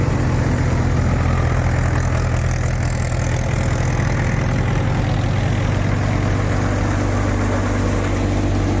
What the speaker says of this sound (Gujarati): ટ્રેક્ટર 475 મહિન્દ્રા છે